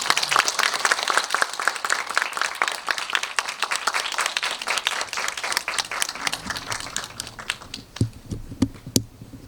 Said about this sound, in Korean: 앞으로 모시고 관객과의 대화를 진행하도록 하겠습니다. 박수 부탁드릴게요.